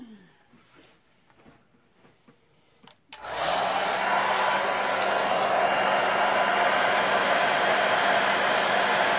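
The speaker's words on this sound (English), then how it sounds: "let's see if we can get anything to move anywhere with this blow dryer that we've got here" Blow dryer switched on to blow across poured acrylic paint, starting abruptly after a few quiet seconds of faint handling noise and then roaring as a loud, steady whoosh.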